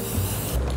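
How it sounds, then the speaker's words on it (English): A short, close hiss of an aerosol spray can, steady for under a second. "Then we want to take that second color and spray over top."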